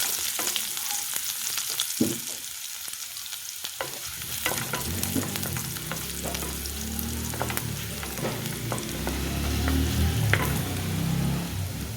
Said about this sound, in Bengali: রসুন দিয়ে দিলাম।